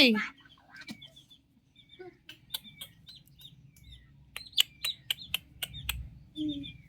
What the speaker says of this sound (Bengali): পাখি